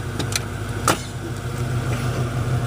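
A 1994 Ford F-150 XLT 4x4 truck engine runs at a steady idle, a low continuous rumble close by with a couple of brief higher clicks or knocks over it and no talk.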